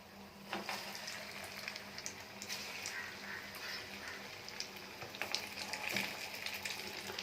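Kari vadai meat fritters frying in hot oil on a stove give a steady, dense crackling sizzle with small pops scattered throughout, close and continuous, with no talk over it.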